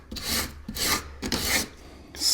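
Wood being smoothed by hand at a workbench: four long, even rasping strokes in a steady back-and-forth rhythm, close and fairly loud, with no talking.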